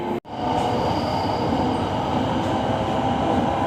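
An electric commuter train on Bangkok's Red Line rolls from Bang Sue toward Taling Chan and takes a curve beside the southern line, with a steady loud rumble of wheels and cabin noise throughout after a brief dropout.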